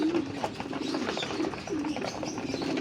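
Pigeons in a loft coo softly in repeated low, throaty phrases, rising and falling a few times against a faint background rustle.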